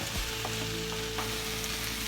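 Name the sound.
stirring potato empanada filling cooking in a pan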